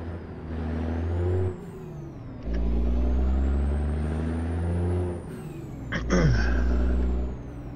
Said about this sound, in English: But this cat engine sounds just so good.